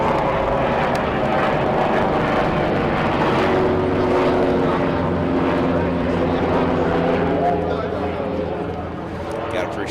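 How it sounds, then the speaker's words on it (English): A helicopter passes overhead during an outdoor athletics game, its steady droning rotor and engine noise loud and continuous throughout, with voices talking underneath. "got a helicopter coming through."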